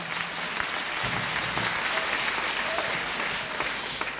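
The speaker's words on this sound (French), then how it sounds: "Acclamons pour Jésus-Christ." Sustained crowd applause fills a hall at a Christian testimony gathering, steady and dense from start to finish as the congregation cheers for Jesus Christ.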